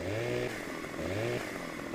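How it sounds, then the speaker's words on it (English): Chainsaw in the video game Farming Simulator 17, a steady loud engine drone with two rising revs, each climbing in pitch then settling, with no talk. "We have a chainsaw."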